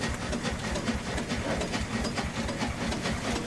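A steam engine on a farm gives a steady, rhythmic chuffing hiss of steam, moderately loud and continuous with regular pulses.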